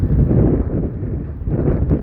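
Strong gusting wind outdoors on a snowy, sunny day buffets the microphone, a loud low rumbling roar that surges and dips without any talking.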